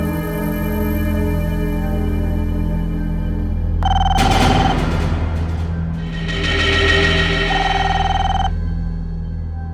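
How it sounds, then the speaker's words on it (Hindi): A telephone rings at night in two long electronic bursts over a steady humming, tonal background. "ये रात गई, किसका फोन है?"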